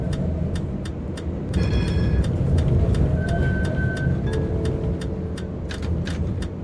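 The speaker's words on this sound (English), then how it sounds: "Give the heads up there's a tram coming through." A Vienna tram in the TramSim Vienna game rolls past, a loud steady rumble with a sustained tonal whine and repeated sharp clicks over it, swelling in the middle and easing toward the end.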